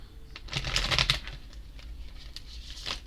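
A deck of tarot cards is shuffled close by, a soft riffling patter of quick flicks that builds to a brief cluster, then thinner scattered flutters, quiet with no talk.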